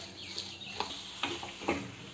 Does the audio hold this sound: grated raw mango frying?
yes